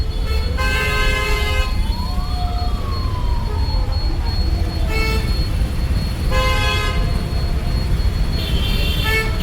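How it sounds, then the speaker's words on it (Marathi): Car horns honk in a Nashik road traffic jam, several loud bursts of varying pitch sounding over a constant heavy roar of engines, with one long rising and falling tone among them. "पूर्ण ट्रॅफिक आहे मित्रांनो"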